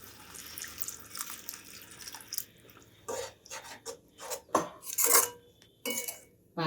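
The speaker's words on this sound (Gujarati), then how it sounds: "તો આપણે હવે પાણી એડ કરી દઈશું." Water goes into a pan of cooking peas in a home kitchen, with uneven bursts of pouring and splashing and some clinks of utensils after a quieter stretch of low background noise.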